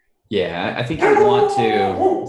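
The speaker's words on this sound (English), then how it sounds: "Sorry, that's my dog." A chocolate Labrador dog gives close, whining yips and bark-like howls that overlap someone talking nearby.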